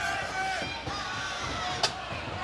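A 1984 wrestling arena crowd keeps up a rumbling roar of shouts and cheers under a commentator's steady talk, with one sharp thud cutting through midway.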